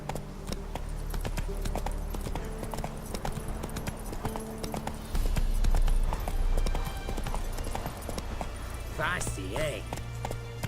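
Roach the horse's hooves clip-clop steadily in The Witcher 3: Wild Hunt, a rhythmic trotting gait heard throughout beneath game music, with a brief whinny and a voice near the end.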